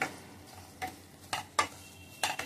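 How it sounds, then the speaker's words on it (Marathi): Semolina being stirred and dry-roasted in a pan over a low gas flame for rava sheera, heard as a few soft scraping strokes over a quiet sizzle, with no voices. "गॅस स्लो ठेवायचं रवा भाजीपर्यंत."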